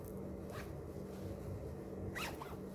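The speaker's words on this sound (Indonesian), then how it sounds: "Kita tes resleting." A skirt zipper is pulled up and down as it is tested, with two quick close zips about two seconds apart over a steady low background hum.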